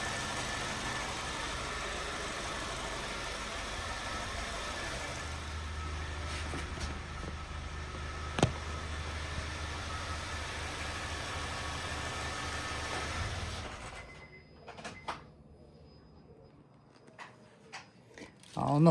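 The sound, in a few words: Honda Fit engine idling with a rumble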